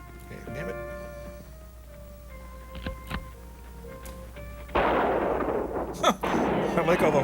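Gunfire in a western film: a few sharp, separated shots among music and other film sound, followed by a louder burst of noisy commotion, moderately loud.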